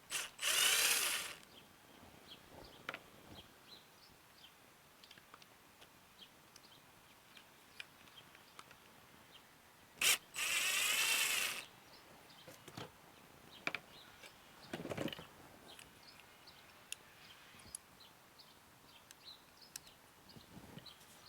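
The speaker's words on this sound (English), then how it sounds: "I'm just going to remove the torque screws here holding the butterfly." A handheld power driver removing the small torque screws that hold the butterfly plate of a Nikki carburetor from a Briggs opposed-twin engine, three short whirring bursts separated by quiet stretches with faint clicks and handling noises.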